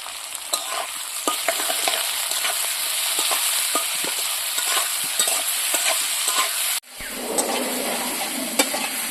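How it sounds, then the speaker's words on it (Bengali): Chopped onion with salt frying in a pan while being stirred, for a spicy goat offal bhuna: steady close sizzle with frequent scraping stir strokes, a brief gap near the end, then continued frying. "এবার পেঁয়াজটা কত সুন্দর ভাজা হয়ে গেছে"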